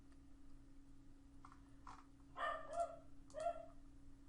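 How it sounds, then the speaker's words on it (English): A dog barks and yips in short bursts indoors, fairly quiet and set against a steady electrical hum, with a faint whimpering sound shortly before the barks. "My dog is going crazy right now."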